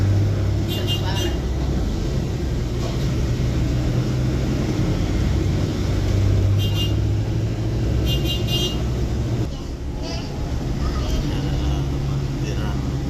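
Low engine rumble and road noise inside a Trans Mamminas city bus moving through traffic in Makassar, with a steady drone, occasional faint clinks and rattles, and people talking under the noise.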